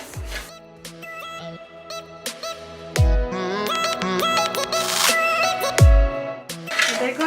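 Rice dry-roasting in a hot kadai for rice laddu, stirred with a spoon that scrapes and knocks against the metal in several loud, uneven strokes close by, with ringing metallic clangs between.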